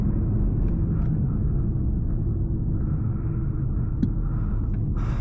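An Audi R8 with a naturally aspirated V10 accelerates on a backroad, heard from the cabin as a loud, steady engine rumble with a few faint clicks over it.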